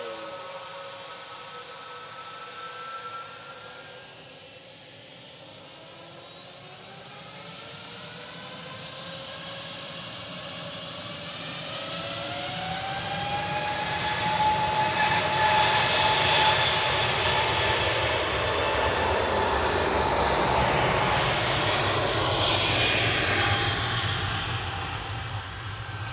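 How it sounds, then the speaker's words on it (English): A Lufthansa Airbus A320neo departs from Manchester Airport, its jet engines whining with rising tones that grow into a loud, building roar, then slowly fade, continuous for about twenty-five seconds with no voices. "Lufthansa 2507 to Munich, nach München, DAIJR A320"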